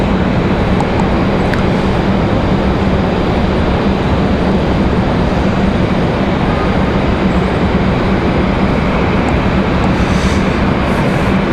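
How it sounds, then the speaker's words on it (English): A FedEx ATR 42-300F cargo turboprop on final approach at Raleigh-Durham International, heard as a steady, broadband roar that holds at an even level throughout with no voices. "at FedEx turning on finals, you're going to be able to check our smaller FedEx ATR 42300F"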